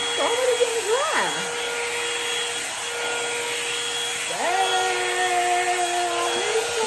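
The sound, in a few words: Revlon One-Step hair dryer brush drying hair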